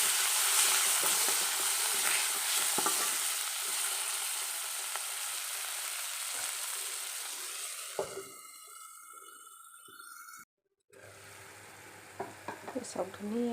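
Chojina (drumstick) flowers cooking with cumin, turmeric and salt in a pan, a soft sizzle that gradually fades, with scraping stirs and a few clattering knocks near the end.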